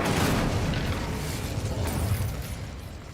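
A fire spell is cast in the video game Hogwarts Legacy, giving off a roaring, crackling whoosh of flame that is loud at onset and then fades gradually.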